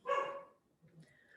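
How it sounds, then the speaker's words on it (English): A dog barks once, fairly faint in the background, then gives a softer whimper or yip a moment later, with no talk over it. "Now you're hearing my dog in the background."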